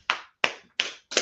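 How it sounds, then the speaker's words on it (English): Four sharp, close hand claps or taps at an even beat with short silences between them, each one crisp and fairly quiet, with no voices. "So let's clap it up, right?"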